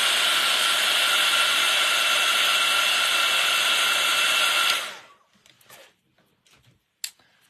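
A cheap hair dryer blowing to dry wet gesso splatters on a scrapbooking tag, a loud, steady whooshing roar for about five seconds before it cuts off, followed by quiet handling clicks and a sharp tap.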